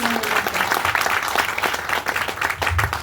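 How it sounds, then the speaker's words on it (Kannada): Audience applause at a company presentation event, a sustained burst of many hands clapping with uneven surges, moderately loud and continuous throughout. "ಅವ್ರಿಗೋಸ್ಕರ ಒಂದು ಜೋರಾದ ಚಪ್ಪಾಳೆ"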